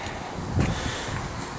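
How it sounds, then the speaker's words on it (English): Gusty wind buffets the microphone outdoors beside a MIG welding setup, a steady low rumble and hiss with a stronger gust near the middle, no talking. "Sorry about the wind, it is a bit windy today."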